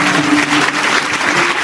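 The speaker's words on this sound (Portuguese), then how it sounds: "Pode louvar a Deus com as palmas." A church congregation claps hands loudly and close, a dense continuous patter of palms with a faint voice briefly sounding underneath.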